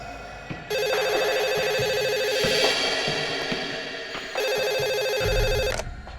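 A telephone in a Hindi TV crime drama rings loudly and electronically in two long bursts with a short gap between them, accompanied by faint background music.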